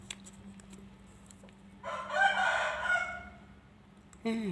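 A rooster crows once at a moderate distance, one drawn-out call over a steady low hum.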